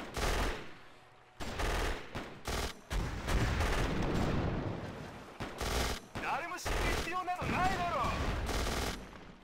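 Machine gun fire in the real-time strategy game Axis and Allies RTS, repeated bursts and sustained rattling volleys with short gaps, mixed with battle noise and a voice at moderate loudness.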